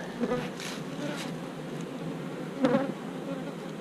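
Honey bees buzz around a beehive in March, a dense continuous drone close to the microphone with a few louder swells as individual bees pass near.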